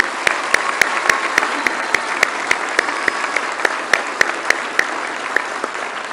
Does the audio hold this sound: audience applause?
yes